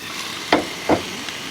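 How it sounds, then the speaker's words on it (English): Bacon strips on an Osaka-style okonomiyaki get flipped on a hot griddle, with two distinct flipping slaps followed by a steady, loud close sizzle. "Flip this bacon."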